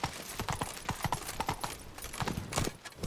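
Roach the horse galloping in The Witcher 3, a rapid run of close hoofbeats drumming on the ground, loud and continuous throughout with a faint snort near the end.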